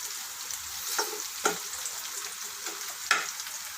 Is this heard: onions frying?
yes